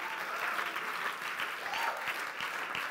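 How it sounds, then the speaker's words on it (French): Steady applause from an audience at a youth event in Bordeaux, a continuous even patter of many hands clapping at a moderate, fairly distant level. "Est-ce qu'on peut applaudir?"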